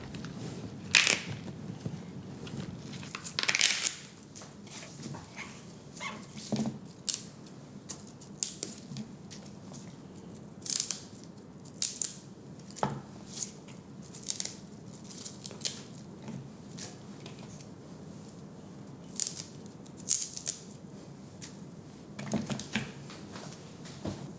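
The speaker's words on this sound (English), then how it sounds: "Pull each rib from the base of the stalk." Celery ribs are snapped and pulled from the base of the stalk, giving repeated crisp cracking and tearing bursts at close range, spaced irregularly with quiet gaps between.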